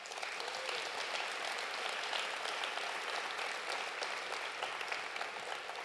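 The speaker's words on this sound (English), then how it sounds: "big round of applause for them" Steady applause from a sizable audience, dense and even throughout, with no voices rising above the clapping.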